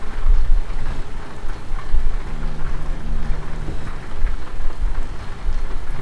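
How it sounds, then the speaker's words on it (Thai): Steady rain pattering on a surface in the truck driving game Euro Truck Simulator 2, dense and continuous, with a low rumble underneath and a faint tonal hum midway. "ให้เสียงฝนเข้าหน่อย"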